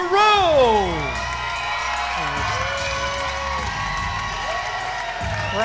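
Crowd at a live MMA fight event roaring and cheering loudly, with whoops and shouts, swelling at the start then holding as a steady wash, while an announcer's voice runs over it.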